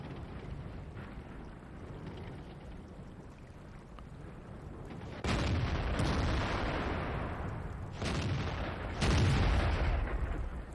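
Main gun of a German Indien Panzer, a tier 8 medium tank in World of Tanks, fires loud booming shots at about 5, 8 and 9 seconds, each a broadband blast that rolls off over a steady rumble of engine and battle noise.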